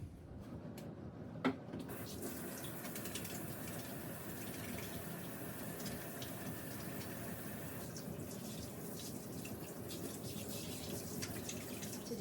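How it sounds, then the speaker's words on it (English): Hands being washed under a running kitchen tap, a steady close wash of flowing water with one brief knock near the start and no voices. "let me turn around and wash my hands real quick"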